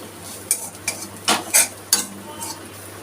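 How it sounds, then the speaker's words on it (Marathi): A spoon scrapes and clinks in a pan, stirring coriander powder and turmeric into cluster beans with gram flour, making several close, irregular scraping strokes over a faint steady hum. "सर्व साहित्य मिक्स करून घ्यायचे आहे"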